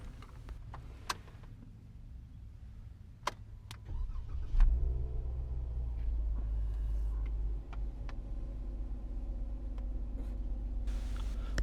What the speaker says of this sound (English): We're going to see how loud the engine is starting and then idling.